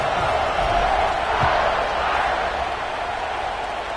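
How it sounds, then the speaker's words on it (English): A football stadium crowd buzzes after a touchdown in a Notre Dame versus Georgia game, a broad, steady roar of many voices filling the space without distinct cheers. "this crowd is buzzing after that last score"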